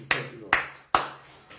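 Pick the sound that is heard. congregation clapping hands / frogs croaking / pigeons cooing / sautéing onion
congregation clapping hands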